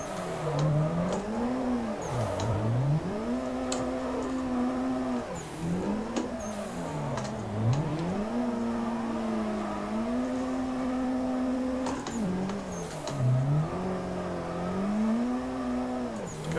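Drift cars in Assetto Corsa revving in tandem on a drift playground map, engines rising and falling in long sweeping pitch swoops, loud and continuous with faint tire squeal, no talking.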